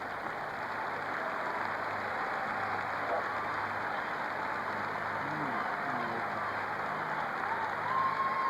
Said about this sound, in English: As the pedal kids leave the stadium to a thunderous applause